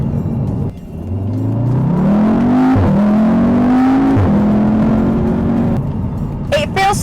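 A 2018-era MK3 Audi TTS drives past, its engine note rising steadily as it accelerates, loud and close, with a brief dip like a gear change midway, then fading into wind and road noise.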